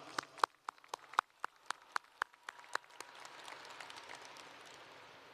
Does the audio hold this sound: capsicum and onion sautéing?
no